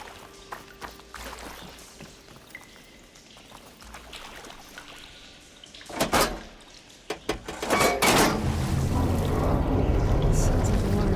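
Water switches on and rushes through pipes in the Horizon Forbidden West video game, starting as faint trickles and clunks, then surging into a loud, steady gushing flow in the final seconds, with brief speech.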